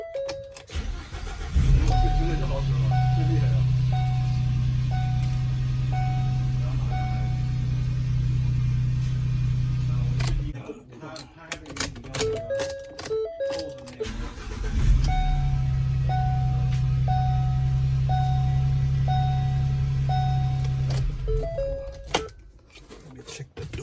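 A 2011-2016 Ford Transit cargo van engine cranks and idles in a steady low rumble, cutting out around the middle and then restarting for a second run, with a repeating warning chime over the engine.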